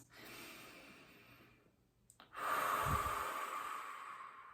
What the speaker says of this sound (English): We can take some deep breaths.